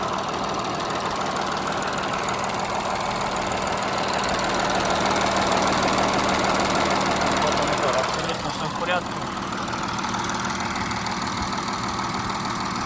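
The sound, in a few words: Audi A6 Allroad 3.0 TDI diesel engine running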